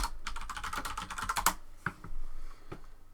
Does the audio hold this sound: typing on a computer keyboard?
yes